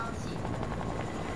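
A video-game helicopter in a battle royale gives a steady, dense rotor thrum, loud and continuous throughout the short moment.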